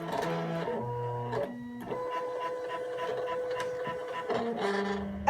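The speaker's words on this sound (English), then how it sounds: "I just ran it through the Silhouette portrait, and it actually read the cut marks on this one" Silhouette Portrait cutting machine cutting planner stickers, a steady close mechanical whir with stepped motor tones shifting pitch as the blade carriage moves, running alone throughout.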